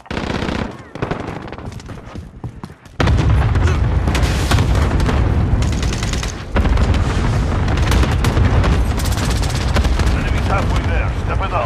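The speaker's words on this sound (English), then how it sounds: "Enemy cluster strike incoming." Cluster strike explosions and heavy gunfire in Call of Duty Modern Warfare online multiplayer, a loud sustained barrage of booms and rapid shots after a quieter opening with scattered fire, continuing dense and roaring throughout.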